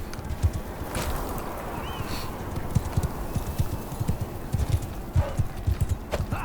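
Horse hooves clip-clopping in the medieval strategy game In The Name Of Jerusalem II, a steady clatter of several hoofbeats over a dense battle din, with a brief whinny among the noise.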